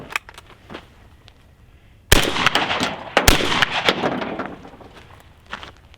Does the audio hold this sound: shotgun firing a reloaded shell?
yes